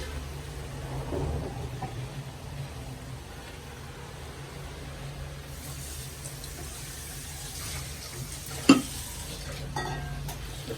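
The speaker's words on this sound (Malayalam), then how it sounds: "നന്നായിട്ട് വഴട്ടിയെടുക്കാം" Lemon pickle mixture is sautéed in a pan with soft stirring scrapes over a faint sizzle, fairly quiet, with one sharp clink of a utensil near the end.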